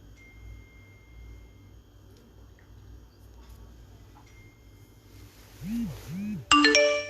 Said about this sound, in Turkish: Şimdi bir bildirim gelmesi gerekiyor.